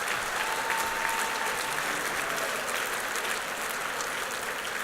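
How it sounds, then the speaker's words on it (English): A conference audience of teachers' union members applauds two honorees, a full, even roar of clapping from a large hall that holds steady throughout, with no talk over it. "Let's give Byron and Eunice another big round of applause."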